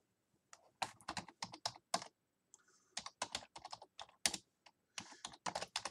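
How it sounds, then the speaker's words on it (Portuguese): Rapid, loud keystrokes clatter on a computer keyboard in quick clustered bursts with brief pauses, close and hard-hitting, continuing throughout with no voices. "Peço desculpa o meu teclado, parece que estou a assassinar o meu teclado."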